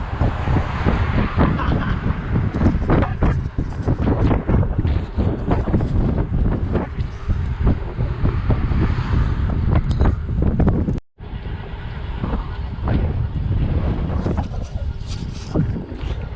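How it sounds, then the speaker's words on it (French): A strong headwind buffets the microphone while cycling a bike path along the Loire, a loud continuous roaring rumble with gusty surges and one brief dropout. "il y a un putain de vent de face"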